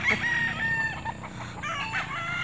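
Backyard chickens cluck continuously at close range while a rooster lets out a crow, the flock's calls overlapping without pause.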